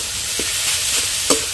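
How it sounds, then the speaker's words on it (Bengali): Date palm jaggery melting together with sugar in a pan for a coconut filling, heard as a soft continuous sizzle with a couple of brief spoon scrapes against the pan. "এবারে দিয়ে দিচ্ছি খেজুর গুড়, এর সাথে একসাথে গলে যাবে।"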